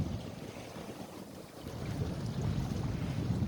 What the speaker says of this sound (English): So this is sailing to wind with no lee board down